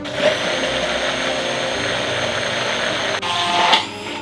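An immersion blender whirs steadily as it emulsifies homemade mayonnaise from a pre-mixed base and neutral oil, a loud continuous motor drone that shifts pitch briefly near the end as the blender is moved up and down.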